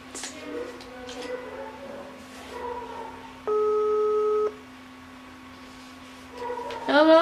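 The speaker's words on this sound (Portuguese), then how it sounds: "Vamos ligar pra ela. Vamos ver se ela me atende." An outgoing phone call rings without being answered: a single steady ringback tone sounds for about a second in the middle, with faint room noise and murmur before and after.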